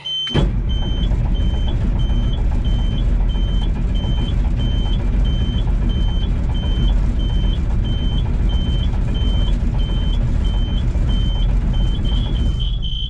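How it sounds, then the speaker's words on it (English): A White 8700 truck's Perkins diesel engine runs loud and steady right after a cold start, a dense close rumble filling the whole stretch while a high intermittent beep repeats over it. "cold start on the old 8700, although it's really not that cold anymore"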